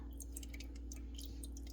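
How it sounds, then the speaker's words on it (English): Rendered tallow fat drips from a crock pot into an empty sink as faint, scattered drops over a steady low hum. "I'm putting this straight into an empty sink because I don't want any fat to drip down the inside of my crock pot"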